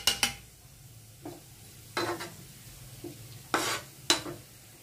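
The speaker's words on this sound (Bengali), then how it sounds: "দেখেন তেল দেওয়ার পরে কিভাবে বুট বুট বুট বুট বুট বুট করতেছে" Oil for khichuri sizzling in a pan, several sharp hissing bursts that fade between them, with faint clinks of a utensil in the quiet gaps.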